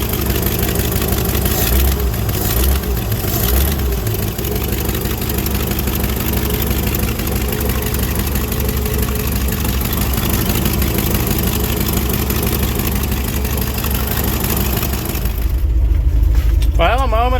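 The engine of a 1967 International 1200 truck runs steadily after being jump-started with a battery charger in Alaskan winter, a loud, rough low rumble throughout, with a slight rev near the end.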